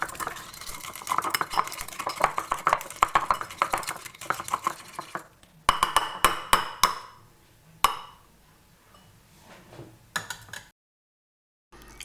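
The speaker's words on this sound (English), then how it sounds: "All you have to do is give it a whisk and that is it." A yogurt and ready-made mustard dressing is whisked in a bowl, quick rhythmic metal clinks and scrapes for several seconds, then a few sharper separate taps on the bowl before falling quiet.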